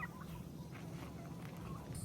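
White Holland and Royal Palm turkeys cluck and gobble softly nearby, a faint low chorus of bird calls over quiet outdoor background, with no talking.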